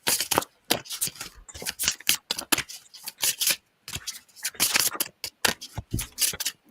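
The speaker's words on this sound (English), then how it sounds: "I'm still shuffling." Tarot cards are shuffled by hand, giving quick bursts of crisp riffling and slapping card edges in an irregular rhythm, close-up and fairly loud, with short silent gaps between bursts and no talking.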